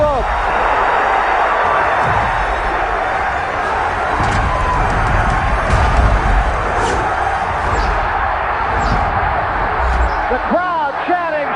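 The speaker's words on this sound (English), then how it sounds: "The crowd chanting Sugar Ray." Boxing arena crowd chanting Sugar Ray for Sugar Ray Leonard at a middleweight title fight, a loud sustained roar of many voices with cheering and whoops, a commentator talking over it.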